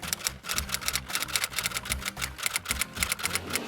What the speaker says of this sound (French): là on imprime aussi de l'autre côté